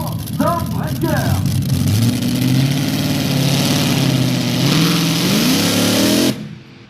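Pulling tractor Stormbreaker at a tractor pulling demonstration in Ranes, its engine rising from a rough idle into a loud, sustained rev lasting several seconds before cutting off abruptly, with brief voices near the start.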